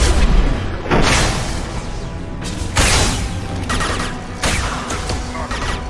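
Three heavy explosions go off in Mass Effect 2 as shot crates blow up. Each booming burst is spaced a couple of seconds apart, and a rumbling, crashing tail lingers between the blasts.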